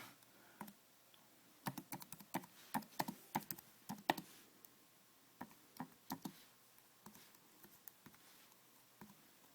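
Quiet keystrokes on a Bluetooth keyboard paired with an iPad clatter in irregular bursts, quick taps and pauses, close and otherwise silent.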